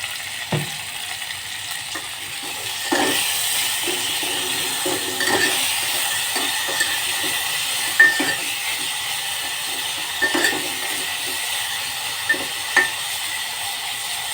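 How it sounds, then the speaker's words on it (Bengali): Tomatoes sizzling with salt in a pan for a vegetable tarka, a steady loud frying hiss with occasional stirring clinks and scrapes, no voices over it. "এবার টমেটোগুলোকে একটু ভালো করে ভেজে নেব।"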